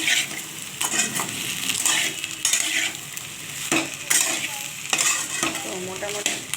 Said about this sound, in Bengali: ফোড়নটা দিয়ে ঝিঙেটা ভাজবো